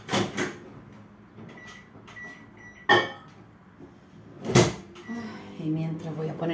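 A microwave oven door opens and shuts with a couple of sharp clacks and thumps, close by in a kitchen, while a person talks throughout over faint background hum.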